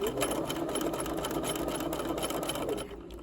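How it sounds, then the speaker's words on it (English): A sewing machine stitching fabric runs steadily close up, its rapid even needle chatter continuing for a few seconds before easing off at the end. "Press the reverse button and then come forward with the sewing."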